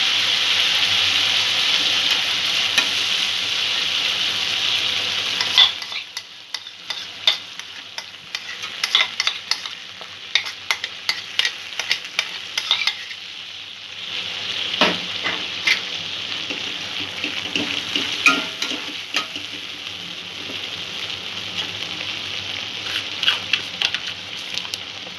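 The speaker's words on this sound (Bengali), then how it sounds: "মশলাটা অল্প একটু কষে নেব।" Spice paste of yogurt, ground mustard and sesame frying in a pan for a Bengali catfish curry, heard first as a steady loud sizzle, then as repeated close scraping stirs over a continuing sizzle, no talking.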